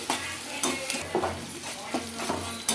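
Ginger garlic paste and onions frying in a pan for a dried fish and egg curry, with a steady sizzle broken by repeated scraping stirs of a spatula, close and fairly loud.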